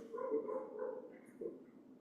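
During a lively yoga class, a human voice imitates a dog with two close, playful woof-like barks, fairly loud and alone without other sounds.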